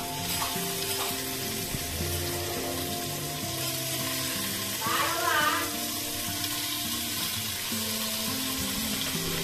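Paneer cubes frying in ghee in a pan for a Mangalurian paneer ghee roast, a steady soft sizzle running throughout with faint background speech or voices underneath.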